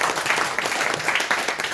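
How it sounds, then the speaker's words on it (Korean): Dense, steady applause from an audience at a talk, many hands clapping together at close range without a break. "박수"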